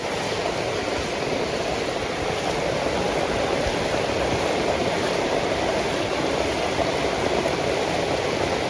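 Heavy rainwater rushes through a neighborhood street in a steady, dense, close wash of flowing water that stays constant throughout, with no talk.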